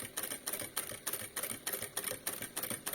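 Sewing machine running in short rapid pulses, about six quick bursts of mechanical chatter, as quilt binding is fed against the presser foot; close and steady, with no talk.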